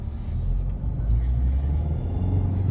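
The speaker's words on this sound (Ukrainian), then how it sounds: "чуєте по ходовій, нема ніякого взагалі, таке як новенький, їдеш." Opel Astra car driving on the road, heard from inside as a steady low engine and road rumble, loud and continuous throughout.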